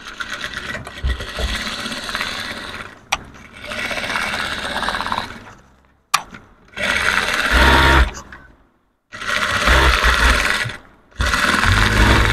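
A sewing machine stitches a three-piece dress in several loud, close bursts of rapid mechanical whirring, separated by short pauses.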